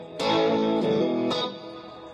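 Heavily distorted electric guitar, a Line 6 JTV-69 Variax through a Blackstar HT Club 40 amp, playing a few sustained chords, each struck sharply and ringing out with a thick, saturated tone.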